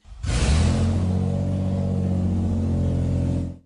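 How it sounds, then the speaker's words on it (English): A vehicle engine with its catalytic converter removed fires up into a loud, deep, rumbling roar that holds steady for a few seconds before cutting off, close and unmuffled. "When they're sawed off, it sounds like this when you turn your car on."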